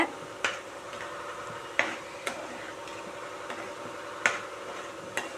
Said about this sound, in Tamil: மசாலாவை சேர்த்து இந்த ஆயிலையே நல்லா வதக்குங்க